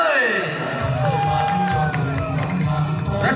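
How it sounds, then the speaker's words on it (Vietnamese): A festival crowd in Điện Biên Đông cheering and shouting for teams wrapping bánh chưng, with lively whoops and voices swelling near and far under an announcer's talk. "Chúng ta hãy dành một tràng pháo tay để cổ vũ cho các đội thi nào quý vị khán giả ơi"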